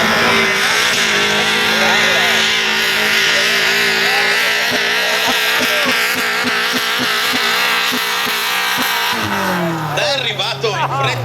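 Loud sustained roar of a pro stock pulling tractor with a Suzuki Swift engine at a tractor-pulling contest, a rising engine note with rapid rhythmic pulses, then a drop and a new rev near the end, while a commentator talks throughout.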